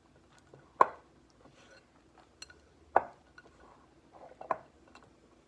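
Chocolate chips stirred into cookie dough in a bowl, a few sharp clinks of utensil against the bowl with soft scraping between, quiet and close.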